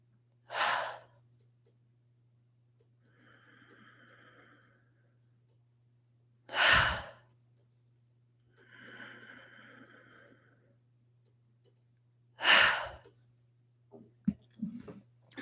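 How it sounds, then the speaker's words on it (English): Slow, deep meditative breathing up close: three sharp, loud inhales or exhales spaced about six seconds apart, each followed by a softer, longer airy breath, over a faint steady hum, with no talking. "Take 3 breaths here."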